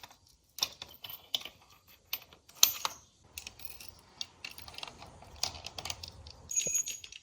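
Spark plugs being removed from a Honda CBR600RR motorcycle with a hand ratchet: quiet, close-up bursts of fast ratchet clicks separated by brief pauses, with light metallic handling noises and no talking.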